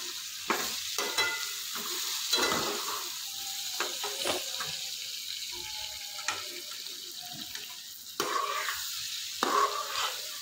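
Brinjal curry frying in a pan is stirred with a spoon, giving repeated scraping strokes over a constant sizzle, close up and without talk.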